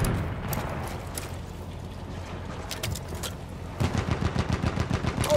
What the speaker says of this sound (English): We have machine gun right there!